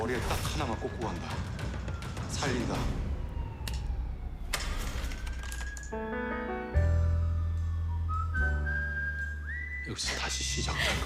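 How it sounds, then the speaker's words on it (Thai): Distinctive human whistling by the character Kim Sabu from the Korean drama Dr. Romantic 3: a few melodic phrases with rising and sliding notes, broken up by other sounds and short bursts of noise. "เป็นเสียง ผิวปากของหมอคิมซาบูที่เป็นเอกลักษณ์เลยนะทุกคน"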